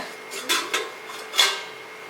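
Several light metallic clinks and knocks of a metal cooking vessel being set down and shifted on a hard surface while making idiyappam, close and fairly crisp.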